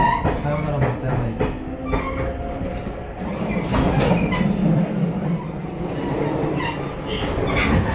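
Onboard a JR Shikoku 8000 series Ishizuchi limited express tilting train, the traction motors whine under a steady rolling rumble and wheel clatter, with brief voices in the carriage.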